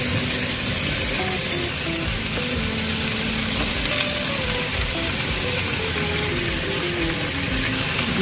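Chicken feet frying in a hot pan give off a loud, steady sizzle that crackles on without pause, with no voices over it.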